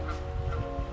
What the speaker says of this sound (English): apparently some geese are fighting